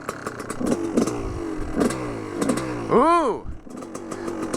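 A 2001 Gas Gas dirt bike engine revs in rhythmic bursts nearby, then rises and falls in one sharp throttle blip as it pulls away; someone speaks briefly over it.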